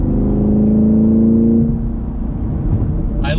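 Chevrolet Camaro SS 1LE V8 engine heard from inside, a loud low rev that holds and then eases off, with rumbling exhaust burbles as the throttle lifts.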